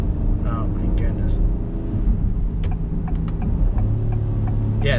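Engine of a 2022 Acura MDX SUV heard from inside the cabin, a steady low rumble under driving road noise, with faint clicks over it.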